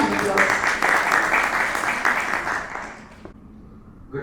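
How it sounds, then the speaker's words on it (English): A conference audience applauds at a chamber of commerce event with loud, dense clapping that holds for about three seconds, then fades out abruptly. "Please give a huge round of applause."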